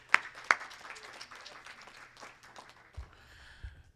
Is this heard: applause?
yes